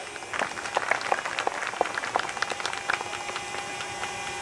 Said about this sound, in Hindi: इसलिए लंका में बजा दो ताली।